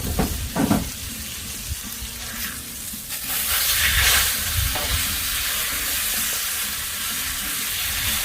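Breaded chicken fried chicken cutlets sizzle on a Blackstone griddle in a steady, close hiss that swells louder midway, with a few scraping clatters near the start.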